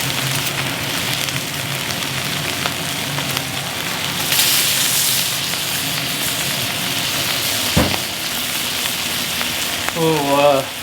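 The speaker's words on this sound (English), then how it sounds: "Little reverse sear action." Meat sizzling on a barbecue during a reverse sear, a loud, continuous close crackle and hiss lasting throughout, with a brief swell midway and a short tonal squeak near the end.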